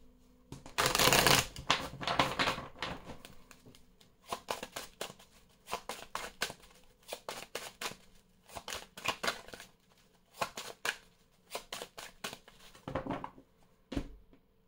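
Mirror oracle cards shuffled by hand in a long run of quick, crisp riffling bursts with short pauses between them, close and clear, no talking.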